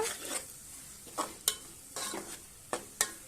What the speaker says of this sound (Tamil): அதே மாதிரி அடி பிடிக்காத வதக்கிக்கோங்க.